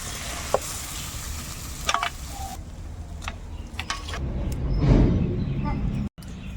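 Chicken cooked with tomato sizzles in a pan while a spoon scrapes and stirs it, a steady frying hiss broken by several sharp clinks, swelling louder toward the end before a brief cut.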